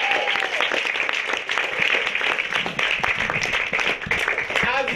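A theatre audience applauds the director, sustained crowd clapping filling the room with some voices and cheers mixed in.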